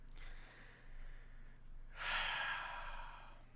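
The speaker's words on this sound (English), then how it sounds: "You guys hear my dog snoring in the background?" A dog snores faintly in a room, giving slow, breathy inhale and exhale rasps with a louder, noisier breath midway, over a low steady hum and no talk.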